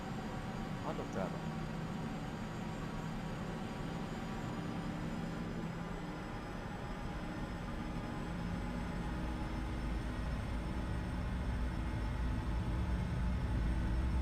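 An airplane taking off in Microsoft Flight Simulator X, a steady drone of engine roar and rushing air that holds level and slowly builds, with a voice talking over it.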